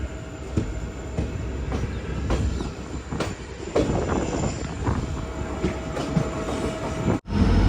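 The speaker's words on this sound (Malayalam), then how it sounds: "ഹരിദ്വാർ റെയിൽവേ സ്റ്റേഷനിലേക്ക് ഇതാ നമ്മുടെ ട്രെയിൻ എത്തിക്കൊണ്ടിരിക്കുക" A train rolls along the tracks near Haridwar while approaching the station, a loud steady rumble with faint wheel clatter that briefly drops out near the end.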